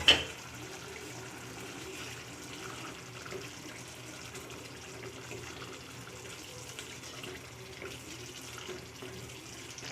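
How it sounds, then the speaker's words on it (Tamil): Rice-washing water poured into a chicken curry simmering in a clay pot, a steady running, splashing pour that holds at an even level from start to finish with no voices. "அரிசி கழுவின தண்ணியை ஊற்றிடலாம்."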